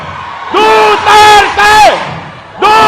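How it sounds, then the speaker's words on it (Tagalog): A crowd of Duterte supporters at a rally in Hong Kong chants his name loudly in unison, several rising and falling shouted repetitions in quick rhythm, very close and full. "Tingnan natin kung malakas ang sigaw niyong Duterte!"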